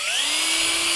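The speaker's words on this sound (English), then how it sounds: "Drill that hole." A power drill bores a hole into a PVC fitting with a loud, steady high whine that holds for about a second up close.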